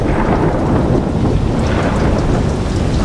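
Heavy rain pours steadily at night, a loud dense wash of drops with deep rumbling thunder beneath it, continuous throughout and free of talk.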